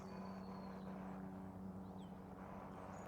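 An aeroplane passes overhead above a graveyard, a faint steady drone with a low humming tone that lingers throughout, and no voices are heard.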